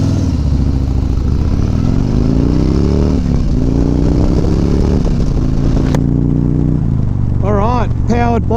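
A 2019 Harley-Davidson Road Glide Special with a stock 114 Milwaukee-Eight V-twin and slip-on mufflers rides past, its loud, deep rumbling engine rising and falling in pitch as it accelerates, with wind buffeting throughout.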